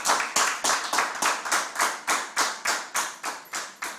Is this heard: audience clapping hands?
yes